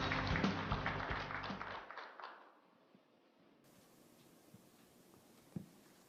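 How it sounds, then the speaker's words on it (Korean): An indoor forum audience in Gwangju claps loudly for about two seconds as a chamber of commerce chairman comes to the stage, then the applause cuts off into near-silent room tone with a faint knock. "여러분 큰 박수로 맞이해 주십시오"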